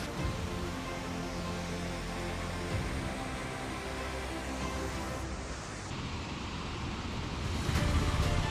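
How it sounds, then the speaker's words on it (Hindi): Steady rushing roar of a waterfall in a high mountain valley near the Milam glacier, broadband and continuous with a slight surge near the end, no voices. "आप देख सकते हो सामने प्यारा सा झरना"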